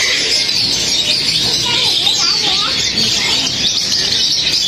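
Caged birds at Yuen Po Street Bird Garden, a Hong Kong bird market, chirp and twitter in a dense, continuous chorus of high calls, with faint talk underneath.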